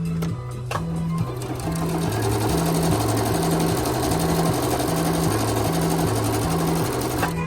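Juki HZL-LB5100 sewing machine running a standard straight stitch, a steady close mechanical whir with an even rapid needle rhythm throughout, loud and unbroken with no talk.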